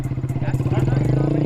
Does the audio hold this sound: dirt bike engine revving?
yes